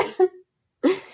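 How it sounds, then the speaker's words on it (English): Two short, dry coughs from a person during a podcast conversation, separated by a brief silence, close and fairly loud with no other sound. "I just cough instead of laughing right now"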